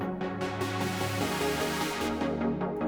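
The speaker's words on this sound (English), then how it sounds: "And then what I do is when it builds up, I open up the cutoff." Electronic synth build-up in a song, a sustained dense harmonic pad swelling as the filter cutoff opens and brightens, steady and loud with no voices.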